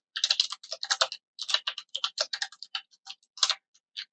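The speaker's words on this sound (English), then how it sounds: "While you're typing that out" Steady bursts of computer keyboard typing, close and clear, with short pauses between runs of keystrokes and no talking.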